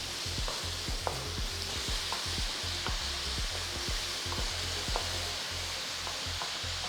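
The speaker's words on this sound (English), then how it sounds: "add 3 finely chopped large onions and saute until they are golden brown in color" Chopped large onions saute in hot oil in a kadai with mustard seeds, a steady sizzle joined by repeated ladle taps and scrapes against the pan, close and continuous with no talk.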